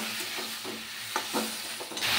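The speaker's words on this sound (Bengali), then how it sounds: "পটলের তরকারিটা বসিয়েছি বলতে পটলগুলো ভাজছি" Pointed gourd (potol) frying in oil in a pan, a soft steady sizzle broken by several short stirring scrapes, fairly quiet and without talk.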